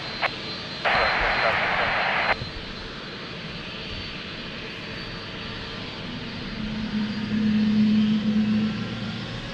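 An Airbus A330 airliner's jet engines roar steadily at Lisbon Airport, a broad continuous rumble that swells toward the end, with a burst of radio-like noise early on and voices talking throughout.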